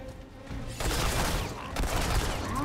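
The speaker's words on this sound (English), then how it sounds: "You can fire this weapon just as fast as you can pull the trigger." Handgun fired rapidly in the game Remnant 2, a burst of close, loud shots blurring into dense crackling bursts over low game ambience, with a second volley coming about a second after the first.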